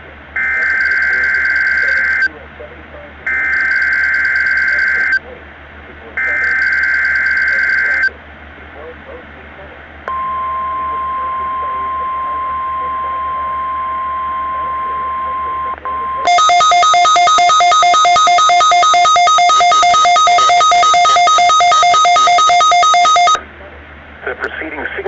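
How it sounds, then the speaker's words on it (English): A NOAA All Hazards weather radio station, KIH-29, sends a public warning alarm test: three bursts of screeching data tones, then a steady single beep, then a long loud two-tone alarm. "The preceding signal was a test of the public warning alarm system for NOAA All Hazards radio station, KIH-29."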